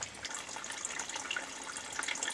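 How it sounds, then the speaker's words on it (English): Rainwater trickles and drips steadily through a t-shirt filter into a rain barrel, a continuous close splashing patter without speech. "the water is dripping down in there"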